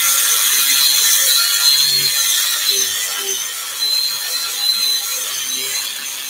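A small flap disc grinder works the edge of a garden tool held in a vice, a steady loud high-pitched whirring grind with slight wavering as the disc moves along the blade.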